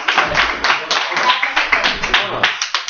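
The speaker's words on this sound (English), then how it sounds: "Claps." Clapping from a debate audience, a run of quick uneven hand claps at close range, fairly loud, with some crowd voices mixed in.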